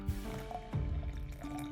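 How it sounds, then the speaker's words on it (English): Claret wine pours into a glass with a gurgling, filling splash that rises in pitch, close and continuous for a moment, with faint background sound. "They are pouring claret."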